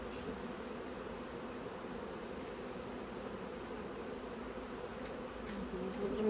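A thick, continuous buzz of honey bees swarms around an open hive during autumn winter preparation, steady and close, swelling slightly louder near the end.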